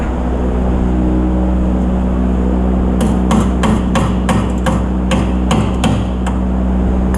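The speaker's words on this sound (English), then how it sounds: "Hammer, knock it in a little bit and get it on out." A hammer strikes metal about ten times in a quick, uneven series of sharp knocks, knocking in a part while installing a BMR K-member on a turbo Camaro, over a loud, constant engine drone.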